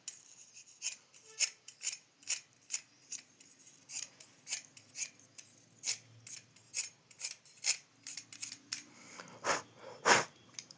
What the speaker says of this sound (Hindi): आप सिंपल सैंड पेपर ले लो, सैंड पेपर मतलब रेगमाल होता है, वो यूज़ में ले लो इसको शार्प करने के लिए